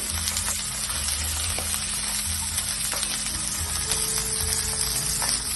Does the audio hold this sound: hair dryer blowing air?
no